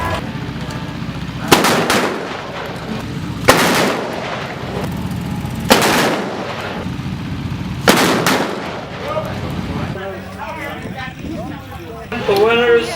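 Four loud, sharp blank-revolver shots from a fast draw competition ring out about two seconds apart, each with a short echoing tail, and an announcer talks near the end.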